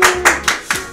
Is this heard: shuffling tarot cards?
no